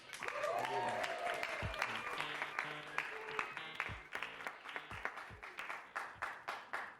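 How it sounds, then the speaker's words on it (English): Live audience at a personal branding talk breaking into applause, dense clapping that thins out into a few scattered claps as it fades. "Quick round of applause for the topic."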